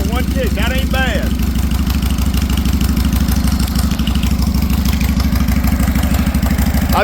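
A longfork chopper motorcycle engine idles high to warm up just after being kick-started, with a loud, steady, rapid pulsing chug close by and a voice speaking briefly at the start.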